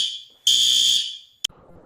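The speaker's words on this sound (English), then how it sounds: "Oh no, someone just pulled the fire alarm." A fire alarm at a Whole Foods Market sounds in a loud, piercing electronic tone that swells in, holds for under a second and fades, followed by a brief sharp second burst.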